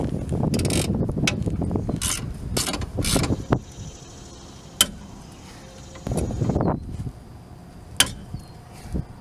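A hand tool tightens nuts onto the lower rear strut bolts of a 1997 Buick LeSabre. It gives runs of rapid ratcheting clicks and mechanical rattles, then pauses with a few isolated sharp metallic ticks, close up.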